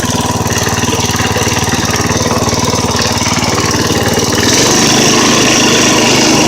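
A 1960 Sears riding mower engine with used rings runs loud and close, a steady rapid putter with no pause, its tone shifting slightly lower partway through.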